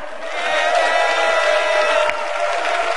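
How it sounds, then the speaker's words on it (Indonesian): An audience at a Jakarta gubernatorial candidates' debate applauds, a dense wash of many hands clapping together at steady volume for a few seconds with some crowd noise mixed in. "saya ajak sekarang semua untuk tepuk tangan, silakan"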